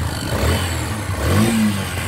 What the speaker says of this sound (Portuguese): Toda vez que vocês acelerar o motor e ele fazer esse chiado aqui